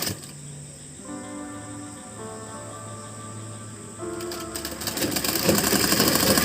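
A sewing machine stitches a folded seam on a blouse, giving a steady motor whir and hum that grows louder and busier toward the end, with no talking.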